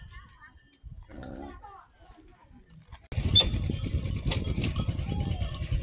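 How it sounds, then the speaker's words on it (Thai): Goats being herded in a rural Lao village: after quiet talk, a loud stretch of bleating, shuffling hooves and jostling animals fills the scene nearby. "เพิ่นกำลังเลี้ยงแบะเนาะ"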